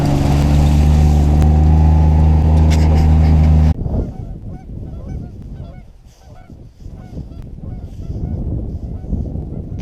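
Canada geese on an icy farm pasture honk loudly and close by, a steady blare at first, then scattered, uneven honks continuing alone with no talking.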